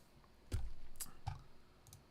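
Mouse clicking to switch a video transition, a few sharp, separate clicks close by against a quiet background, no talking.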